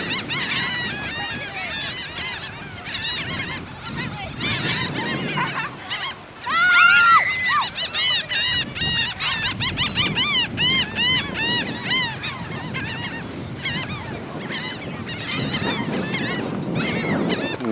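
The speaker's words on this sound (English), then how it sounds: "Here's all the birds and how they keep going over." A large flock of geese honks continuously overhead, many overlapping calls rising and falling, with some wind noise against the microphone, in Biloxi after Hurricane Katrina.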